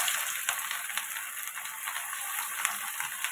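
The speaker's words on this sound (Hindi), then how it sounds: "और इसे अलट पलट के फ्राई करेंगे" Potato snack pieces of besan and suji batter frying in hot oil, a steady even crackling sizzle with small pops throughout, close and moderately quiet.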